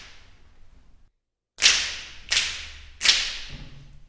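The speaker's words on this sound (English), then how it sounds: "the last button here is an exciter, which boosts certain frequencies for a more processed sound" Three sharp, bright finger snaps processed with an exciter effect, giving a crisp high-end sheen, evenly spaced after a brief silence, each with a short decaying tail.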